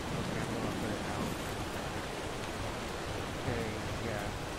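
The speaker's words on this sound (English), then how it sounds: "currently is raining and intensely" Intense rain in the video game ARK, a dense, steady hiss of downpour that holds at one level throughout with no clear breaks, and faint talking seems to sit under it.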